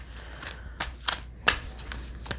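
Santa Muerte tarot cards are shuffled by hand, giving several quick soft riffling bursts and light slaps at irregular intervals, close and fairly quiet with no talking.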